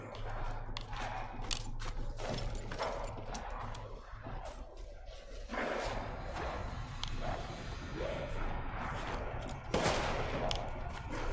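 Gunfire from the video game Resident Evil Village comes in a string of sharp, separate bangs over a busy background of game sound, with a few louder shots toward the end.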